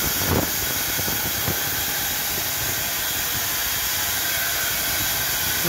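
A working Tinkerbell steam locomotive, NVR 656, hisses loudly and continuously while stationary during a test run, a close, broad rush of escaping steam with a few faint knocks near the start.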